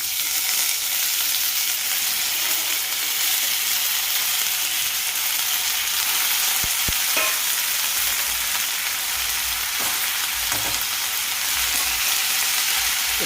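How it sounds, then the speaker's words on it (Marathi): Dried val (ghevda) bean pods frying in a kadhai with spices, giving a steady, close hiss of sizzling oil throughout, with a few brief scraping knocks as the pods are stirred. "तर चला आता मी हे शेंगा कढईमध्ये टाकून घेते"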